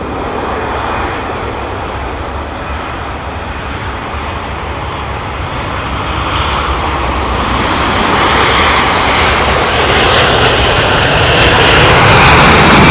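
Boeing 767-400 jet engines roar steadily as the airliner passes at Heathrow, a broad loud rumble that swells gradually and grows louder toward the end.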